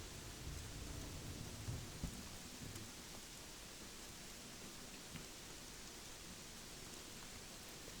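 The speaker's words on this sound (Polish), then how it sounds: "Oczywiście deszcz, jak to na wybrzeżu." Steady rain with low thunder rumbles on a stormy coast in the Gothic 3 video game, a continuous wash of rainfall that holds at an even level throughout, with a few heavier rumbles early on.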